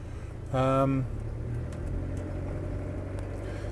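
A Range Rover Vogue SE with a 300TDI diesel engine idling in a low, steady rumble, with a voice speaking briefly near the start.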